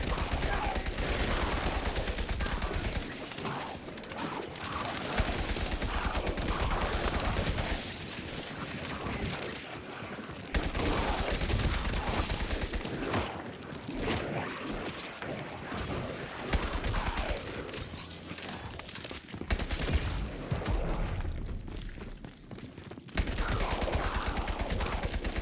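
Sustained automatic gunfire in the video game FBC Firebreak, loud dense bursts filling most of the stretch with brief gaps between volleys, continuous and close.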